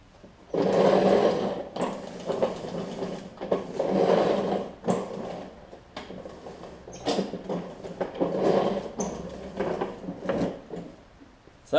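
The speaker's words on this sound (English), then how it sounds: "So that wheel's kind of getting stuck and is kind of scraping" A Toro Recycler self-propelled push mower's rear wheel sticks and scrapes as it is rolled, giving repeated rough grinding and rubbing bursts with short pauses between them, close to the microphone.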